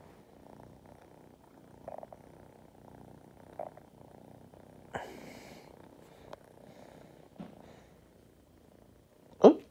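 A cat purrs softly and steadily up close, with a few louder breathy bursts and a brief sharp sound at the very end.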